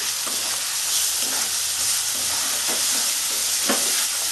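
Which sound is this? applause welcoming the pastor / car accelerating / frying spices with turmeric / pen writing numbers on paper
frying spices with turmeric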